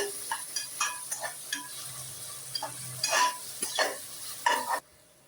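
Onions and tomatoes with salt being sautéed in oil for a one-pot nookal curry, with a steady sizzle under repeated scraping and stirring strokes of a utensil against the pan, nearby and moderately loud, stopping abruptly at the end.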